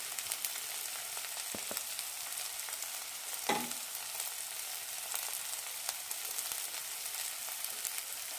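Long beans, half-cooked tomatoes, turmeric, Kashmiri chilli powder and roasted coriander powder sizzle softly and steadily in a pan for long bean curry. A few light clinks and one brief scrape of a spoon sound partway through.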